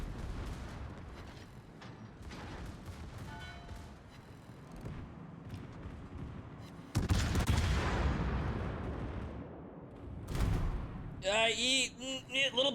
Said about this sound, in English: That's a lot of HE fire.